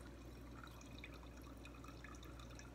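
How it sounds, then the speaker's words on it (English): Water filters and drains into a container with a soft, steady trickle and scattered drips, faint and continuous throughout. "It'll kind of keep filtering and kind of draining in."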